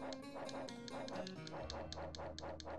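Rhythmic, repeated dog barks and yips from the 1993 SNES game Bram Stoker's Dracula, about a dozen quick electronic-sounding barks in a steady run, alone.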